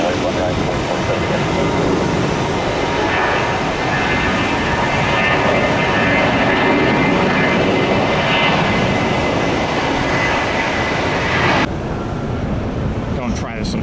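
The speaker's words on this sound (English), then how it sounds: "Heavy Boeing 767." A FedEx Boeing 767 heavy jet passes overhead near a park, a loud continuous roar filling the whole stretch before cutting down sharply near the end.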